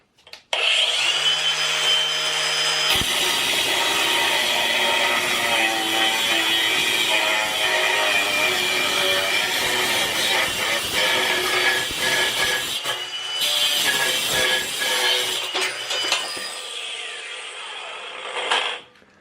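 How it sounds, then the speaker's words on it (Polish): A loud angle grinder whines steadily while cutting through steel rebar, the pitch dipping and straining under pressure, running continuously before spinning down. "Bierzemy szlifierkę kątową i sobie próbujemy przeciąć"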